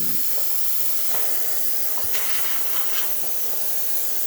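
Isomac Milano espresso machine steam wand blowing a strong, unbroken hiss up close, with a few brief clicks and gurgles riding on the steady rush of steam.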